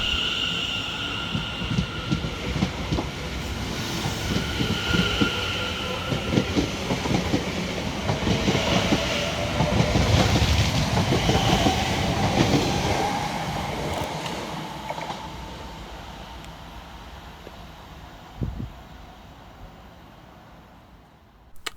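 A London Overground train pulls into Silver Street station, wheels clattering steadily over the rail joints and rising in loudness before easing off as it slows near the platform, with no talking.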